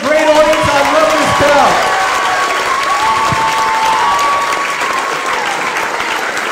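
A comedy club audience applauds comedian Ron Carroll at the end of his set, sustained loud clapping from a crowd with a host's voice calling out over it.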